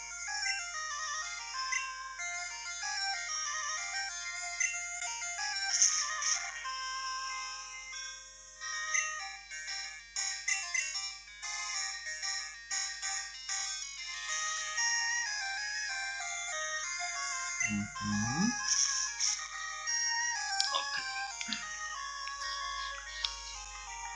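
Chiptune sound effects and music from Pokemon Crystal on Game Boy Color play as the Supersonic move is used in a battle: bright, beeping, warbling tones run continuously at a moderate level, with a brief burst of lower effect noise near the end.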